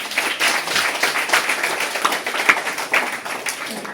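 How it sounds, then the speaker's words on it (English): Audience applause for two presenters at a system security session, a lively burst of uneven hand claps from a small group, close and fairly loud, with no talk over it. "give a round of applause for both of them again"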